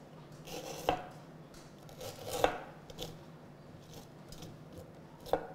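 A knife scrapes seeds out of chilies on a board in a quiet kitchen, three or four sharp, faint scraping strokes spaced apart over low background hush.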